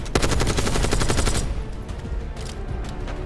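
Automatic gunfire in Call of Duty, a loud close burst of rapid shots for over a second, followed by scattered quieter single shots and some distant fire.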